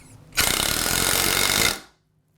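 A Ryobi single-speed impact driver, a standard model rather than the QuietStrike, drives a screw in one loud, continuous burst of rapid hammering impacts lasting about a second and a half, then stops abruptly. The sound is close and heard alone.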